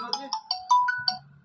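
A phone rings with a short melodic ringtone, a quick sequence of bright electronic tones, signalling a call from a door-sensor security alarm system.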